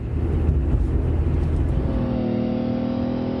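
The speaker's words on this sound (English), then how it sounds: "That's like a car accelerating." A rumbling engine roar swells and holds like a car accelerating, loud and close, then gives way to a sustained, rising tonal drone as the roar fades.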